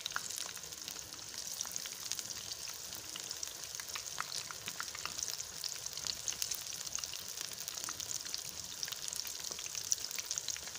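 Cauliflower pakoras deep fry in oil over high heat with an even, continuous sizzle dotted with fine crackling pops, close and unbroken throughout.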